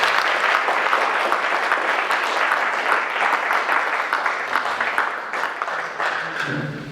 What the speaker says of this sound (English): Let's have another round of applause for all the students.